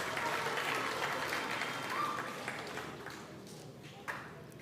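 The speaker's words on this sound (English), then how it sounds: "Let's give them a round of applause also." An audience at a schools' Black History elocution contest claps for the teachers, with the applause loud at first and gradually thinning out over a few seconds.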